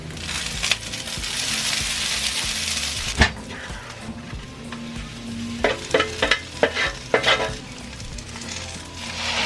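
Steady sizzling in a hot pan with a spoon scraping and stirring through thick, sticky miso sauce, several sharper clacks of utensil against the pan near the end.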